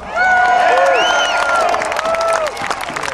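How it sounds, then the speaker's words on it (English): Outdoor anti-tax rally crowd roaring with cheers, whistles and shouts over scattered clapping, loud and close, with the noise beginning to thin toward the end. "Give yourselves an applause."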